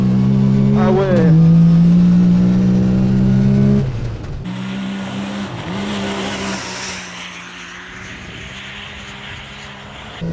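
A Yamaha YXZ 1000R buggy drives through a tight turn, its engine droning loudly and revving, then easing off as the tone changes. People talk over it.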